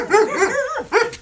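Dogs bark loudly and close by, a quick run of yips and barks followed by one more bark after a short pause, in a rural yard.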